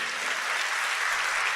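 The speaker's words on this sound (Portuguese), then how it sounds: "Pode dar outra salva de palmas para ele?" A church congregation at Sunday evening Mass in the Easter season claps together in a brief, continuous burst that sounds full and reverberant, with no voices on top.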